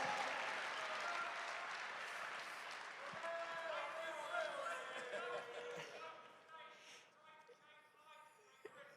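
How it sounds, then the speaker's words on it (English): Applause from a rowdy Bitcoin 2025 conference crowd welcoming Nigel Farage, sustained and fairly steady, tapering slightly near the end, with voices talking over it. "give this man a round of applause to get this started for us"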